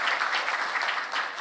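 A church congregation at a Friday revival service claps together, a brief dense burst of applause filling the room, loud and steady.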